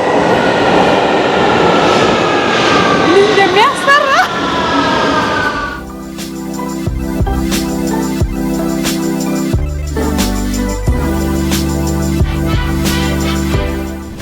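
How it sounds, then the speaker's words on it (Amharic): A London Underground Victoria line train roars and clatters loudly, then settles into a station stop with the hum and thuds of the standing train. "ባቡር ይዞኝ ገባ ሂውስተን በነገራችን ላይ በቪክቶሪያ ላይን ወይም አሁን ባለሁበት በለንደን 2 ሚኒት ብቻ ነው ባቡሩ የሚቆየው"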